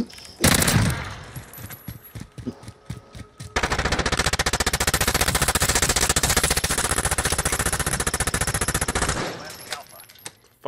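Rapid pistol gunfire in the video game Warzone, a long sustained stream of sharp, close shots after a few scattered opening rounds, loud and continuous before cutting off, with brief player talk near the start.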